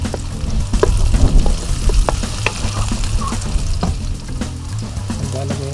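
Ginger, garlic and onion sizzle and fry loudly in a pan, a steady close crackle with scraping stir strokes throughout and no talk.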